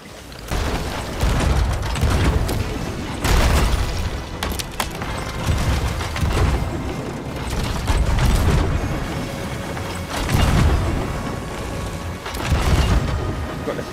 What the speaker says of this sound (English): On the left, Brit, cannon now.